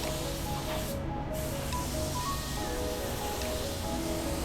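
A spray gun lays red paint onto a Honda Civic bumper, a continuous close hiss of atomized air and paint that stays steady throughout with no pauses and no talking.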